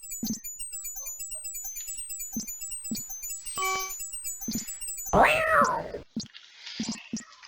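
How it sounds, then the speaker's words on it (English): A mangy cat chasing a terrified rat in the King's Quest 5 adventure game, with a few sharp meows and a burst of frantic squealing near the end, over soft rhythmic game music and chimes. "frantic squeakings alert Graham to a mangy cat chasing a terrified rat"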